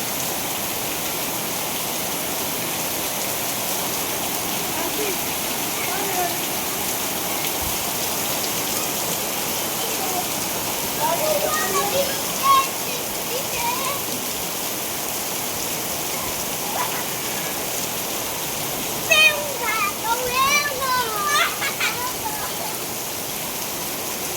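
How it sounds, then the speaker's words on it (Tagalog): Heavy rain pours down steadily in a dense, even hiss, with a few faint voices and brief sounds rising through it in the second half. "Ulan yan, ganun kalakas ang ulan."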